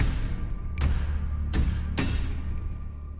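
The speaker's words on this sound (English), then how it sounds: "that is the sound of a mine collapse" Rockfall from a mine collapse in the video game Scarlet Hollow: three dull thuds land over a continuous deep rumble, moderately quiet, with no talk.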